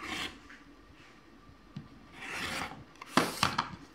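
A flying geese block for a Sarah's Star quilt is trimmed at close range. Faint, short scraping strokes come in a few separate bursts, with quiet gaps between them.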